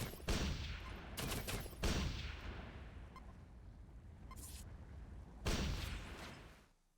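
Gunfire in the Global Agenda shooter game comes as dense bursts of rapid automatic fire with explosive thumps in between, loud and close, running in several heavy volleys.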